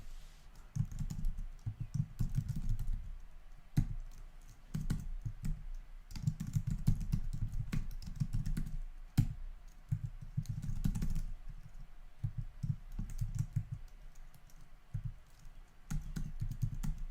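Someone types on a computer keyboard in irregular bursts of close, crisp key clicks, pausing briefly between runs of keystrokes.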